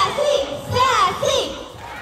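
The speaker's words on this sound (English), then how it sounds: "Come on girls, let's cheer for Sassy!" Girls in an audience cheer and chant together for a sea lion at a marine park sea lion show, a loud crowd of young voices rising and falling in rhythmic shouts.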